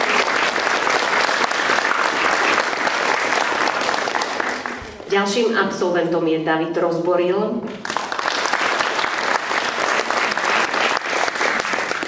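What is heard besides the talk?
audience applause at a school gala concert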